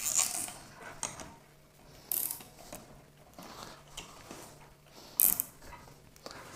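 A clamp being tightened on a Ubiquiti NanoStation antenna mount on a rooftop, giving close, repeated ratcheting clicks and metallic turns over a faint outdoor background, with no talk.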